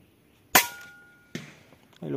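Shots from a Vulcan 3 .25 caliber air rifle striking a car door used as a target, two sharp cracks with short decaying rings, spaced apart and fairly close, with outdoor background.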